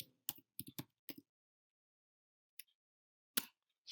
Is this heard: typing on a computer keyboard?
yes